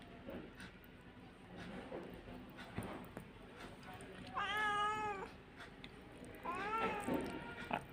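Two house cats, Mini and Puchi, squabbling, with a couple of drawn-out, wavering meows and yowls rising over a faint background murmur; no one speaks.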